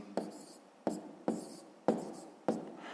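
A pen writes out a column multiplication problem for a sixth-grade math exercise, five crisp, evenly spaced scratching strokes roughly every half second, close and quiet, with no voices.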